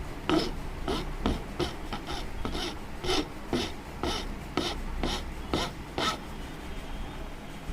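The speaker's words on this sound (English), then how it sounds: "Now you can just take this and just file on it." Hand file rasping on wood held in a double-axis wooden vise, a steady run of about a dozen close, even back-and-forth strokes with no talking.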